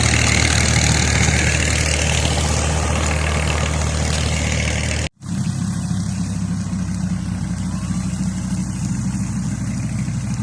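A big farm tractor engine idles loud and close with a steady low rumble, briefly cut once midway and then resuming at a slightly different tone.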